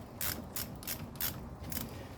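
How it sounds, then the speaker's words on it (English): A ratchet tightening a brake caliper bolt on a 2016 Honda Civic, giving a few short, quiet clicking strokes in an uneven rhythm, close by with no talking. "Get your ratchet, not very tight"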